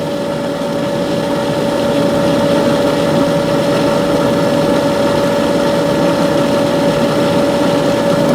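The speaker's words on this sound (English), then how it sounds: "it's going to run for 4 hours while my pump is running" An above-ground pool pump running alongside an Intex saltwater system with E.C.O., giving a steady, continuous motor hum with a constant tone and no voices throughout.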